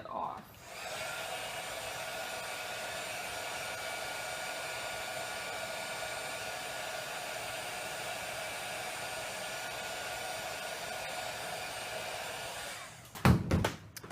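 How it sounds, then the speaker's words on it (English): A hair dryer blows steadily on a wet mixed media art piece, a loud continuous whooshing hum running for about twelve seconds before cutting off, followed by a few brief handling knocks. "That one's a little wet. I'm going to dry it off."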